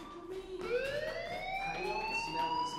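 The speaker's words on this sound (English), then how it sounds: "Do you hear that fire alarm?" A fire alarm wails inside the video game Life is Strange as a steady, loud rising electronic siren tone with harmonics that holds continuously throughout.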